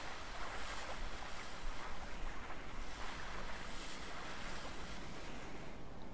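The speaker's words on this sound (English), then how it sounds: "windswept lake waves." Windswept lake waves in Limbo roll in a steady, broadband wash with a soft breezy hiss, continuous and even throughout, with no voices.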